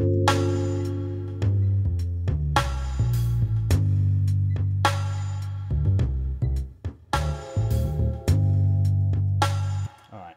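A weird, squishy mystery synth sound from a Korg Triton combi preset plays in repeated loud sustained chords with sharp attacks and tense, shifting tones, ending abruptly.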